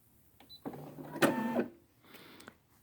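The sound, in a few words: Brother SE600 embroidery machine raising needle via needle up button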